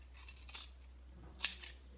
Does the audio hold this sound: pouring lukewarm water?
no